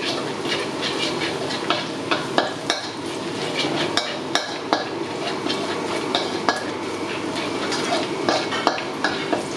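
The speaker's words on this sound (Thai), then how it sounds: "ใส่น้ำมันหมูลงไปเพิ่มนะครับหลังจากนั้นก็นำกระเทียมลงเกี่ยวให้หอม" Garlic sizzles in hot lard in a wok while a spatula stirs it, giving a dense, loud frying hiss punctuated by repeated sharp metallic scrapes and clacks.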